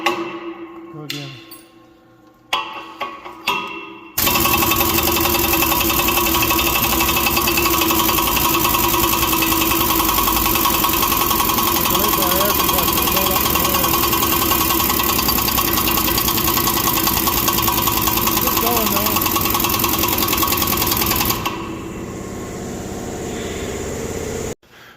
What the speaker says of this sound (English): we waited for our air compressor to catch up.